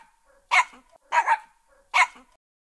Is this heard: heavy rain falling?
no